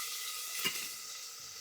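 Half an onion dropped into hot oil for a red chicken curry, a steady close hiss of sizzling with a brief clatter as the pieces land, then the frying carries on evenly.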